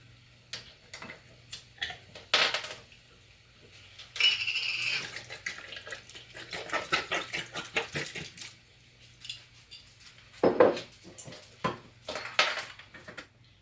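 A spoon clinks and scrapes in a pot as seasoned chicken is stirred with red wine, irregular close taps and sloshes coming in short bursts, with little talk.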